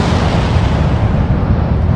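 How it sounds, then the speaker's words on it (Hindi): A huge explosion sound effect portraying a star blowing apart: a continuous, loud, dense roaring rumble that fills the whole clip without letup. "इन बादलों के समूह से अलग एक तारा, जिसमें समय के साथ ऊर्जा की कमी होने के कारण भयंकर विस्फोट हुआ।"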